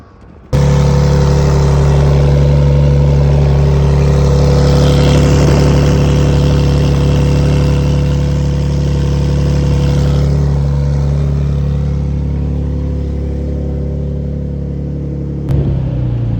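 Green Lotus race car on a circuit track, its engine a loud, steady rumble that holds for roughly fifteen seconds before cutting off abruptly near the end.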